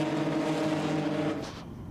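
VW Golf and Renault Clio racing cars on track, a steady loud engine drone with harmonic whine holding for over a second before fading as they pass away into the distance.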